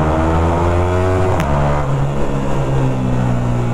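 A motorcycle with a loud aftermarket exhaust in second gear drones close and loud, with a steady throbbing engine note that shifts pitch partway through as it revs, in street traffic.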